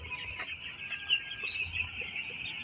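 A brood of nine-day-old broiler chicks cheeps continuously in a dense, high-pitched chorus, steady and close, with no talk over it.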